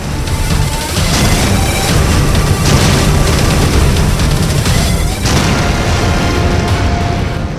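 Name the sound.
explosions from strikes on Hezbollah positions, Lebanon border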